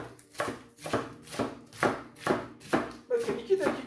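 A knife thinly slices curly lettuce on a cutting board for a salad, producing eight crisp, evenly spaced chopping strokes up close.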